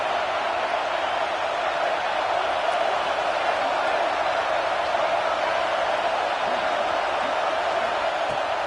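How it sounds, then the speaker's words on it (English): A home football crowd at an Iowa versus Minnesota game roars loudly and continuously, a dense, distant wall of cheering that holds steady without pause. "how nice is it to have the home crowd going absolutely bananas"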